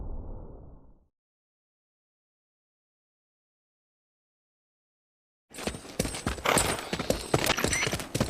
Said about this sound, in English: How's the horse doing?